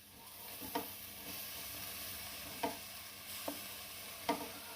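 Boiled soya chunks with salt and spices stirred in a pan, a soft steady sizzle broken by a few sharp scraping strokes of the spoon, close and fairly quiet.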